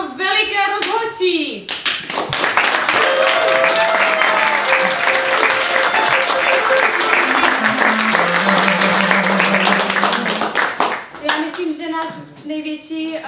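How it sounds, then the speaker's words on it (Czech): An improv-theatre audience bursts into loud, sustained applause for the referees, with cheering voices over the clapping, framed by a host talking before and after. "A veliký, veliký aplaus pro veliké rozhodčí!"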